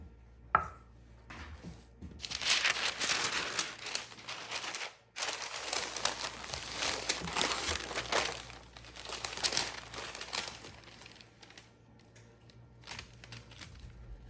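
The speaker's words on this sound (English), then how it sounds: "turn this bread over carefully on some wax paper" Wax paper crinkles and rustles in repeated bursts as a loaf of sourdough bread is turned over onto it, close and crisp, with a short pause midway and no talk.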